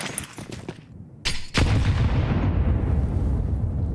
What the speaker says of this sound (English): You hear 2 simultaneous HE explosions